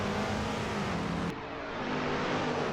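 AC Cobra engine in the Assetto Corsa racing game at Laguna Seca, a loud continuous roar under acceleration that briefly dips at a gear change before building again, with no talk.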